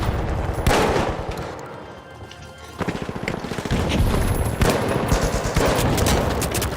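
Gunfire in the video game The Finals: rapid automatic bursts rattle loudly and near, easing briefly mid-way before resuming as dense overlapping fire with booming impacts.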